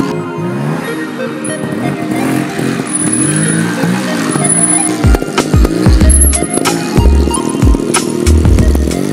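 A trial motorcycle's engine revs repeatedly during a wheelie, its pitch sweeping up and down in loud, close surges, followed by sharp blips and bursts of throttle toward the end.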